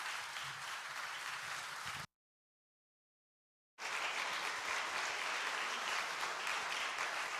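Applause from a church congregation at a men's fellowship dedication evening as the pastor comes forward, steady broadband clapping, cut by a stretch of dead silence in the middle before resuming just as full.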